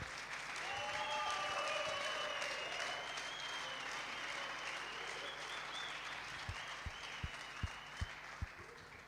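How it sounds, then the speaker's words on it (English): Applause from the audience at a squash tournament ceremony, the final of the PSA BDO Namibian Open 2025: a soft, sustained wash of clapping that fades gradually, with a few sharp knocks near the end. "Let's give him a round of applause."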